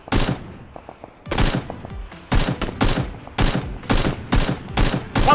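Rapid automatic gunfire in the battle royale game PUBG: several loud, close bursts, each a clattering string of shots, separated by short pauses.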